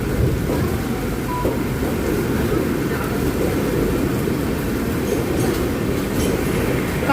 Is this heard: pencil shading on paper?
no